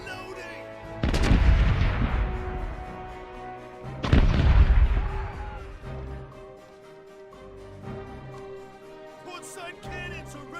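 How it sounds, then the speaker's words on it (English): Ship cannons fire in the pirate naval game Corsairs Legacy, two heavy booming shots about three seconds apart, each with a long rumbling decay over steady game music. "Portside cannons are ready to fire!"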